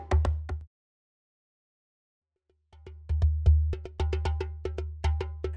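A djembe drum is recorded from beneath its open end with a dynamic bass-drum mic: a few quick hand strikes, a two-second silence, then a busier run of booming, deep-bodied hits with sharp attacks.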